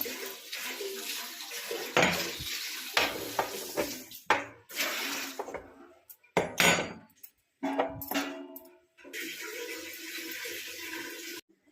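Water splashes and gushes from a tap into a pot in uneven bursts, stopping and starting, close by with no talking.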